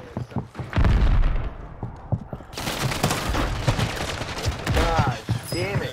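Call of Duty gunfire on Rebirth Island, with bursts of shots and a loud close volley, then continued rapid firing mixed with other game noise.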